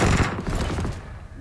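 Gunfire in a shooting video game, a dense burst of rapid shots that crackles loudly at first and then thins out and trails off, heard alone without talk.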